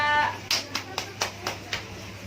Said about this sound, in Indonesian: tepuk tangan buat kelompok kedua